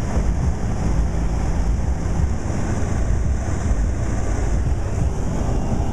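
Steady wind roars across an open, snow-cleared park on a winter day, a constant broadband rush buffeting the microphone with no voices or distinct events.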